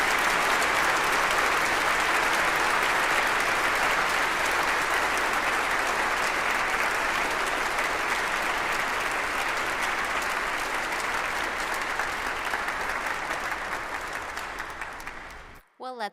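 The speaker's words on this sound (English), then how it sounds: "Please recognize the amazing accomplishments of these students with your applause." Sustained audience applause at an honors convocation, a dense, steady wash of clapping from a large crowd that holds strong for about fifteen seconds before tapering off at the end.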